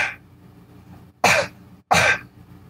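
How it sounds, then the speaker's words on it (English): Two sharp, short coughs used as a beatbox snare beat, close and loud, separated by brief silence after a faint breathy sound at the start. "the cough snare, it's really easy. All you gotta do is cough"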